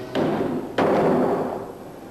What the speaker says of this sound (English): Hammer the nail in.